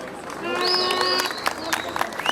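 Outdoor audience at a traditional 2023 bonfire celebration claps and cheers, a steady wash of applause with sharp hand claps and a few high whistled tones, voices mixed through the crowd.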